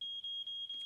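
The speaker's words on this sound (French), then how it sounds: "c'est un détecteur de fumée" A smoke detector emits a continuous piercing high-pitched alarm tone, steady and loud throughout the short moment, with no talking.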